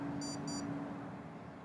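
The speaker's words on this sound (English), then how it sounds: "Watch beep." Two short, high electronic beeps from a wristwatch, a quick double chirp heard up close over a low steady hum.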